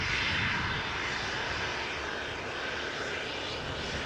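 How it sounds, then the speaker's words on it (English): An Embraer 175 airliner rolls past close by at Amsterdam Schiphol after landing on the Polderbaan, its jet engines giving a steady, full whine and rumble that holds evenly from start to finish, with no talking. "Embraer 175 passing by in the foreground, having landed on Polderbaan back from Stuttgart."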